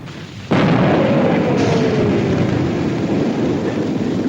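A cannon fires in battle with a single loud, sudden blast that gives way to a long rolling rumble and continuing noise, with no voices.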